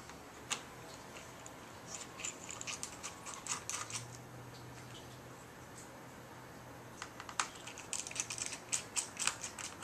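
Small screws are taken out of a MacBook Pro, Torx and Phillips: faint clicks and ticks from a screwdriver come in scattered bursts over quiet background hiss.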